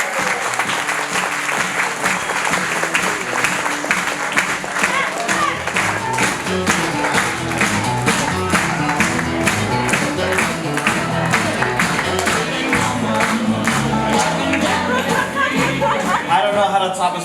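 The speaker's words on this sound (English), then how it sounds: "let's give him a round of applause for that great speech right there" Guests at a birthday celebration give a long round of applause after a speech, with dense, steady clapping lasting well over fifteen seconds and faint chatter underneath.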